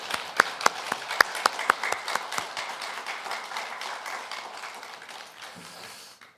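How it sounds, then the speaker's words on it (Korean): A church congregation applauds during a Sunday service, starting with several sharp, distinct claps near at hand and then settling into a softer, steady patter of many hands that gradually fades away. "이 시간 오직 하나님께 영광의 박수를 올려드리겠습니다."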